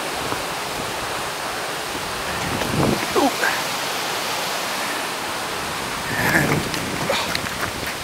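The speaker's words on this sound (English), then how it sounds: "And you see the river over there, raging on down as usual." A river raging down a steep hillside gives a steady, broad rushing roar like a waterfall, heard from a short distance, with occasional soft bumps and footsteps on the slope.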